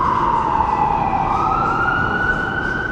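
A wailing ambulance siren holds steady and drifts slightly upward in pitch, loud and close, over a constant rumble of road traffic on King Street, Toronto.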